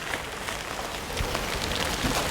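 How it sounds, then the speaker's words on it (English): Steady rain falls outdoors during a drought-breaking shower, a dense, even patter of drops on surfaces with no voices over it. "And it's really starting to rain"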